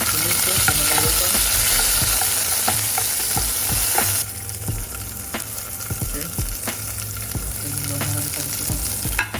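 Pandan leaves sautéing in a pan over a low flame with lemongrass, a dense crackling sizzle with scattered stirring clicks, loud at first and then settling to a softer, steady hiss.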